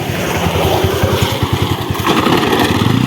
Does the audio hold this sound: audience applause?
no